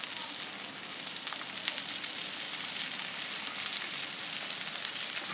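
Okra sizzling steadily in hot ghee or oil, a continuous bright crackling hiss heard up close with no pauses and no voices.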